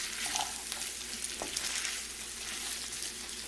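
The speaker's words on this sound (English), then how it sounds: "You keep adding rice and mixing it in." Rice being stirred into fried vegetables in a pan makes a quiet, steady sizzle. Soft scrapes of mixing and a few light clinks sound nearby.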